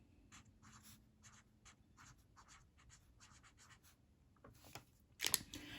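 Pen or marker strokes scratch across a surface while a diagram of the trp operon is drawn, short quiet scribbles in a loose rhythm, ending with a louder rub or tap.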